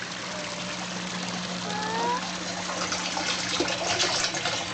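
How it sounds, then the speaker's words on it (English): Water from aquaponics grow bed drains falls into a gutter that returns to the fish tank, a continuous close trickling and splashing flow with a steady low hum beneath it. "You see the drains from the grow beds are draining into the gutter and then back to the fish tank, and the falling water helps aerate the water for the fish."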